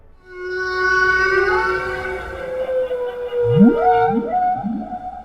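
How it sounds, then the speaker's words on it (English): Long, eerie humpback whale song: rising and falling tonal moans with rich overtones, then a few quick upward sweeps, clear and resonant. "these amazing sounds from the ocean, it's the humpback whale."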